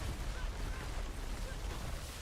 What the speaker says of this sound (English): Mortars, that explosion.